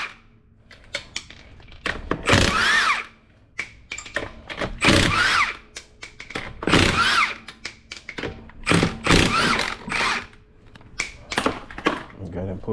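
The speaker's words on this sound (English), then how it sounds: "I like to use the impact, makes the job faster." An impact wrench with a 19mm socket removes lug nuts from a 2004–2012 Honda Accord wheel, firing in several loud rattling bursts of a second or two each, close up, with someone talking in between.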